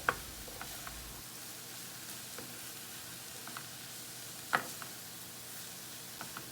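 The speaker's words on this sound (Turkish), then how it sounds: "1-2 dakikada karıştırarak kavuruyorum." Quiet steady sizzling of spinach frying in a pot, with a few soft clinks and ticks from stirring scattered through.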